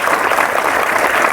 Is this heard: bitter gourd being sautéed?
no